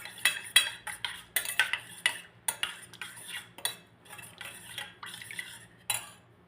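A spoon stirs powder with water in a cup, clinking sharply against the sides in a quick, uneven rhythm of close, bright taps and scrapes.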